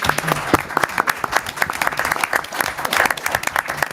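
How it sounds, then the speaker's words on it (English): Audience at a League of Women Voters candidates' forum applauding the moderator, a steady four-second burst of dense clapping from a room of people, with faint voices mixed in. "You just clapped for the moderator also"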